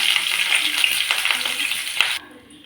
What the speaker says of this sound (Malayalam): എണ്ണ ചൂടായി കറിവേപ്പില ഇടാം